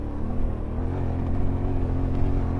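A Yamaha Tenere motorcycle ridden off-road, its engine a steady low drone with a continuous rumble, close and constant throughout.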